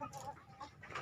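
Farm chickens raised for breeding cluck in a quick, soft series of short calls, somewhat distant and faint, with no talking.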